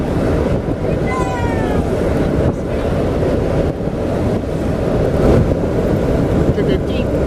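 Strong wind buffets the microphone outdoors beside a 2013 Jeep Wrangler JKU, a constant heavy rumble and roar that stays loud for the whole stretch, with faint chirps and no clear talk.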